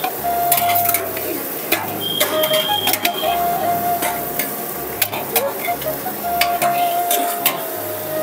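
Brinjal pieces sautéing in oil in a pan, continuous sizzle broken up by repeated scraping and rhythmic clanks from stirring, with a low mechanical hum underneath.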